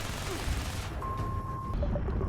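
Gunfire rattles through a Fallout 76 public event in the video game, a dense, continuous barrage layered with a steady electronic tone partway through, with no pauses in the noise.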